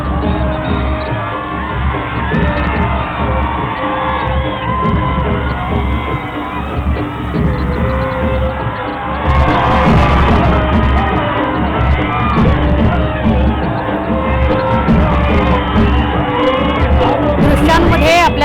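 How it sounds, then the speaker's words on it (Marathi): A large, loud crowd yells, whoops and cheers continuously at a dahi handi celebration in Pune as the Sairat actors appear, with music playing and a sustained roar that swells midway. "खूप मोठ्या प्रमाणात या दोघांना बघितल्यावर जल्लोष पाहायला मिळाला"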